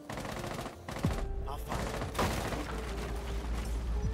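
Gunfire in Rainbow Six Siege during gameplay, rapid bursts of shots over a dense background of game noise, with sharp clicks and mechanical sounds between bursts.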